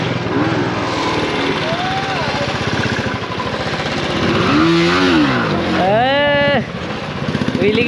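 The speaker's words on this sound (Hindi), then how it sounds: "व्हीली की प्रैक्टिस चल रही सबकी।" Motorcycles revving during wheelie practice, a loud, rough engine roar with rising and falling pitch sweeps and a sharp high rev near the end, with voices talking underneath.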